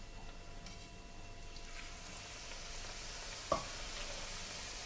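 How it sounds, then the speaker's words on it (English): Steady, quiet sizzling of onion bhajis deep frying in oil over low to medium heat, with a single soft clink partway through. "So let's start frying guys."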